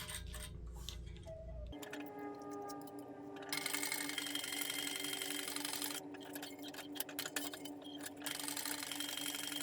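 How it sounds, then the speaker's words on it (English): A sewing machine top stitches down the sides of fabric bag connectors for a messenger bag, running as a steady mechanical whir with needle ticking throughout, louder from the middle onward, with no talking. "now we can top stitch down the sides of each of our connectors at 1/8 of an inch"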